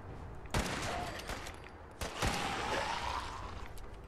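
Gunfire in the video game Fallout 4 Far Harbor: two loud, sharp shots about a second and a half apart, each trailing into a noisy, ringing rumble that fills the gaps, with no talking.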